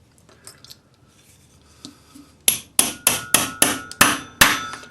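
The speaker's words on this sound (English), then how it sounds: "Now we're going to drop our discs down into a dapping block." A punch hammers metal discs into a dapping block: a few soft taps, then six sharp, ringing metallic strikes in steady succession, close and loud.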